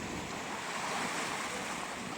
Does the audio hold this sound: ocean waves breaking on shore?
yes